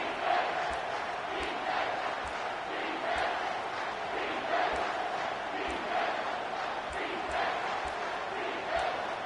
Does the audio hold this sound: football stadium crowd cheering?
yes